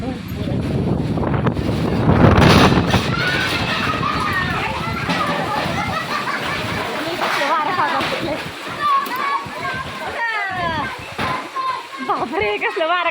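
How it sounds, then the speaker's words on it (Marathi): Strong wind gusts roar and buffet the microphone outdoors, a loud rushing noise under several people talking, including a child. "बापरे कसलं वारा कावडाला सुटले."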